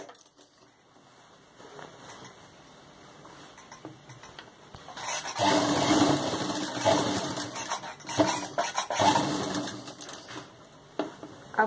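Sewing machine stitching a khajuri salwar, running in bursts that swell loud for several seconds and pause briefly, with a quieter whirring stretch at the start.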